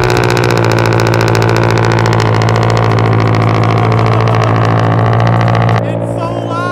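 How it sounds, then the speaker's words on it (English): A Subaru BRZ with an aftermarket exhaust idles loudly on a cold start, a deep rumble and dense harmonic drone, then drops abruptly near the end to a lower, quieter idle. "That was a cold start. Damn, that thing sounded good."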